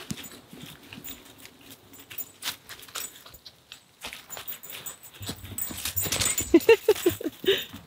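A dog from Hawaii reacting to snow in upstate New York, with soft rustling and movement at first, then a series of short, high whimpers close by toward the end.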